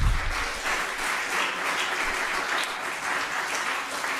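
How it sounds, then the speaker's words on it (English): Audience applause at a transport and connectivity policy committee meeting, a steady dense wash of clapping that holds at an even level for a few seconds. "That's the biggest round of applause I've heard for something that I don't agree with on scientific basis."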